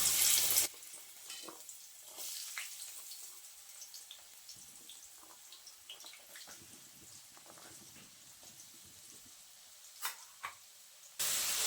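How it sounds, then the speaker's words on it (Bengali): Potatoes fry in hot mustard oil in a wok for a mixed-vegetable chorchori, giving a steady, fairly quiet sizzle with occasional light clinks and stirring scrapes throughout. "প্রথমে আমি আলুটা ভেজে নেব।"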